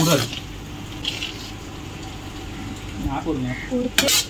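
Onions and vegetables for pav bhaji fry in a pot with a steady, close sizzle and occasional stirring scrapes, while people talk over it.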